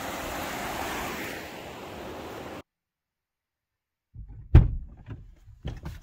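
Rushing river water in the Selkirk Mountains roars steadily close by for a couple of seconds, then cuts to silence followed by a few sharp knocks and rustles.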